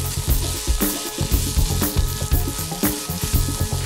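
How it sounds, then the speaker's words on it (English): Tomato paste is stirred into a sizzling soup pot, a spoon scraping and knocking in a steady rhythm over a constant close crackle of frying. "let's give that a good mix again."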